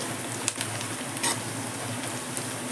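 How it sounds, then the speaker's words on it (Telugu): Steady crackling sizzle of tempering spices frying in hot oil for ragi jowar upma, with a few sharper pops and spits rising above the continuous hiss. "వావ్ మంచిగా ఎగిపోయిందండి తాలింపు"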